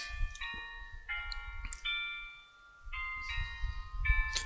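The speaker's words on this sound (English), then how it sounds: "we want to thank the church for being able to play the bells and everything at noon" Church bells ring a short melodic sequence of clear, sustained tones at noon, one chime after another with brief pauses, over a low rumbling outdoor background.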